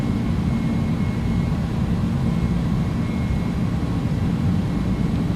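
Airbus Beluga XL exterior engine noise in a flight simulator: a steady, loud, low rumbling drone with a broad airy wash that holds evenly throughout.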